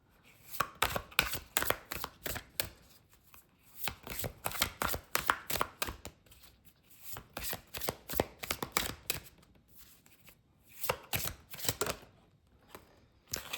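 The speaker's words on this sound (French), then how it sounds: "Je me concentre et on va vous sortir une carte message." Oracle message cards are shuffled by hand before one is drawn, giving repeated quick papery riffles in short bursts with brief pauses between, close and soft, with no talking.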